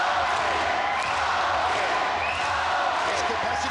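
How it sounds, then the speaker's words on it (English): A capacity crowd at a martial arts fight roars and cheers continuously, a dense loud wash of voices with no break. "This capacity crowd rallying behind their star."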